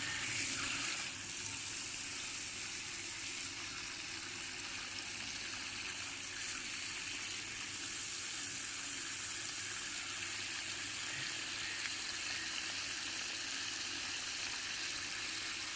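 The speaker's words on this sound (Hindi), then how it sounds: "तो अब हम इसमें पानी लगाएंगे।" Steady rushing and splashing of water poured out continuously onto garden beds planted with garlic, fairly loud and close, with no talking.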